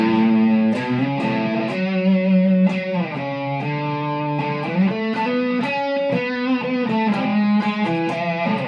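A heavily distorted electric guitar through a Marshall JMP-1 preamp plays sustained chords and riffs, loud and close, with no voices.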